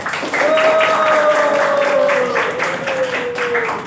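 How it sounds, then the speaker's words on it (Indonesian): A class applauding together indoors, a steady patter of clapping hands with a faint whistle-like tone running through it. "Tepuk tangan untuk kita semua."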